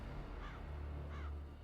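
Two harsh crow caws ring out one after the other over a battlefield, set against a dense, steady low rumble of background ambience.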